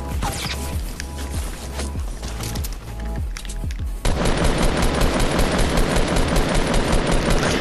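Dense, continuous automatic gunfire from a video game shooter, loud and relentless, with rapid overlapping bursts that intensify sharply halfway through into a sustained roar.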